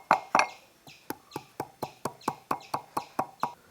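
A small piece of ginger crushed for masala tea, struck about a dozen times in a steady, slightly quickening rhythm of close, sharp thuds with no talk.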